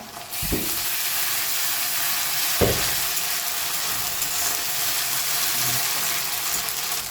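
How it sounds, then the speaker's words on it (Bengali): Ginger, garlic and green chili paste sizzles steadily in hot oil with onions, a loud continuous fry hiss, broken twice by the thump and scrape of a spoon stirring the pan. "এবার মশলাটাকে আমি লেড়ে দেবো"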